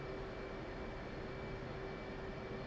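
An F/A-18C Hornet jet in the DCS flight simulator, a steady roaring engine drone with a constant whine, even and unbroken over a few seconds, with no talk.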